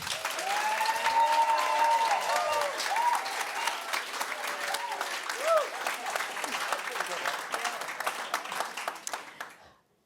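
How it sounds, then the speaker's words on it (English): An audience at a debate applauds in support of the motion, a dense sustained wash of clapping with scattered voices mixed in, fading out at the end. "For the motion, please, a show of applause."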